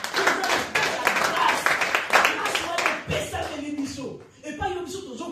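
A church congregation claps in rhythm, steady dense hand claps running under loud singing and voices through most of the stretch, fading briefly near the end.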